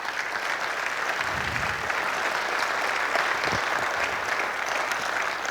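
An audience at an evening event gives a full round of applause, a continuous, even roar of many hands clapping throughout, with a few low thumps beneath.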